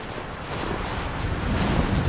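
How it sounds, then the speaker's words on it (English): Wind howls steadily across a mountain slope in Rise of the Tomb Raider, a dense, loud roaring rush that swells slightly toward the end, with no voices. "This wind is crazy"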